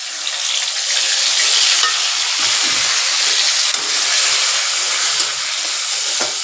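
A vegetarian curry of soybean chunks and potato with ginger and tomato sizzles loudly in a pan after tempering, a dense, continuous hiss with a few faint stirring knocks.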